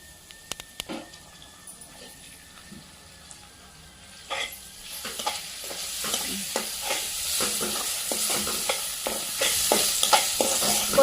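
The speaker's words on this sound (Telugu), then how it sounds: "కొత్తిమీర మంచిగా గోలింది." Coriander and mint stirred and frying in a pan with ginger and garlic for a wild mushroom curry, soft sizzling under repeated scraping stir strokes that grow busier and louder toward the end, with a faint tap-water trickle early on.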